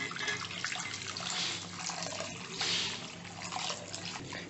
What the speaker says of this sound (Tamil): இப்போ இதல வந்து நம்ம இந்த வெஜிடபிள் ஸ்டாக் சேர்த்துக்க போறோம்.